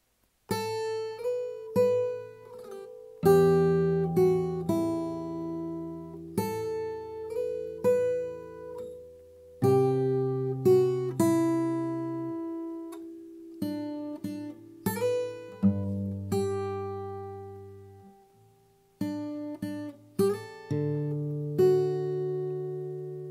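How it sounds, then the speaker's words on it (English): A slow fingerstyle run through the verse of Yeshua on acoustic guitar, plucked notes and chords unfolding unevenly with short gaps, up close and alone. "Together for the verse, it sounds like this."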